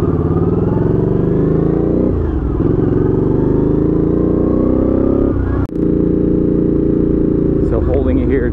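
A Honda CX500 motorcycle engine after carburetor cleaning and vacuum sync runs loud and close at a steady idle with slight pitch wavers, a sharp knock midway, and a person talking over it.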